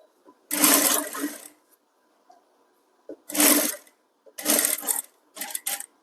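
A sewing machine runs in three bursts of rapid mechanical whirring with pauses between them while stitching thread piping onto a designer blouse, loud and close.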